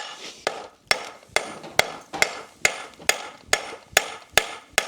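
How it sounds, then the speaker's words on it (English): A hammer repeatedly strikes a rasp being forged into a bar horseshoe, about ten sharp metallic blows at a steady, even rhythm, loud and close, with no talk. "I'm just going to start forging that rasp into the bar."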